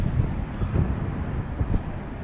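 Wind buffeting a microphone outdoors in Peniscola on a cloudy day, a steady low rumble with gusty swells throughout, loud and close, no voices.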